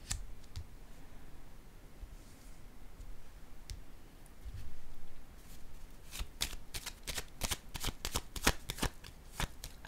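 A deck of tarot cards is shuffled in a quick run of sharp riffling clicks, close and fairly loud, after a few seconds of quiet room tone with only faint handling noise.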